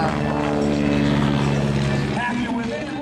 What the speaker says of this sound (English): That airplane, it looks like it's out of control, but it is actually completely in control